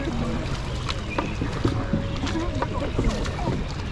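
Paddlers move a canoe along the Davy Crockett Explorer Canoes ride at Disneyland, with soft paddle strokes and water splashes set in a wash of wind and water noise, and faint voices in the background.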